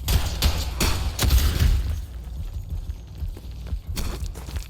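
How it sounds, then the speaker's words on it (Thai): Several sharp, heavy blasts thump in quick succession, then quieter rumbling and a final booming hit, like explosions and gunfire in the Roblox game Decaying Winter. "เราสามารถที่จะยิงระเบิดได้"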